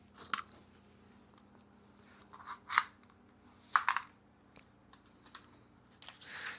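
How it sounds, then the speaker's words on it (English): A budget pocket knife slices through material in short, irregular bursts of crisp cutting and scraping, close and fairly quiet, with small clicks and pauses between strokes. "Let's do a little cutting."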